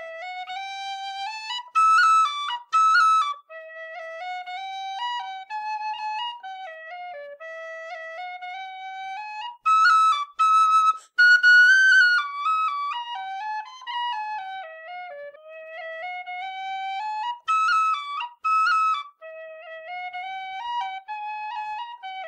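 Killarney tin whistle in brass and nickel playing a melody alone, clear and close, with steady sustained notes and a few quick ornamented runs over about twenty seconds.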